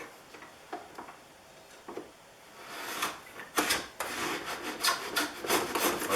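A Stanley 444 dovetail plane cuts wood along a batten board with short strokes. Faint scattered scrapes at first give way to a run of louder, rasping, close-up shaving strokes.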